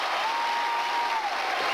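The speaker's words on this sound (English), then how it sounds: "I sense more applause coming" Studio audience at the Wheel of Fortune game show applauding, a dense, steady wash of clapping that fills the whole stretch at even loudness, with a faint sustained tone running beneath it.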